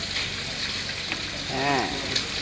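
Eggplant and chili sizzle steadily in hot oil in a pan, a close, continuous frying hiss with a brief stir or scrape partway through.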